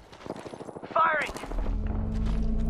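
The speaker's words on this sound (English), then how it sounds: "Firing." Apex Legends gunfire erupts in a short, loud burst during ranked play with the Devotion, rapid shots fading into a sustained low rumble, with a voice heard beforehand.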